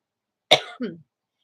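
A single sharp cough followed by a shorter, lower second burst, close and brief, then silence.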